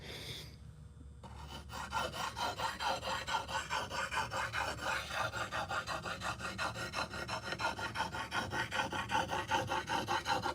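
A katana blade is drawn across a sharpening stone after a brief quiet start, giving a steady run of close rhythmic rasping strokes that stay even in loudness to the end.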